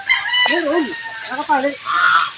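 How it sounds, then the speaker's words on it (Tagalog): A rooster crows nearby, its warbling call repeating a couple of times, with other fowl and some voices in the background. "May mga manok."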